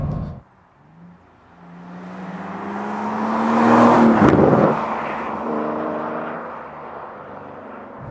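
Aston Martin Vanquish in non-sport mode accelerating with slow, jerky upshifts: a rising engine note climbs, breaks sharply at a gear change midway, then resumes at a lower pitch, loud and close.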